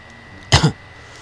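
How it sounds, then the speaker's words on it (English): A single short, close cough in two quick bursts, loud against an otherwise quiet background. "Sorry about the constant coughs sometimes."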